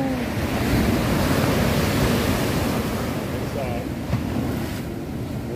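Ocean waves and surf roar continuously near the shore, heavy wind buffeting the microphone over the steady wash of water, with faint voices now and then.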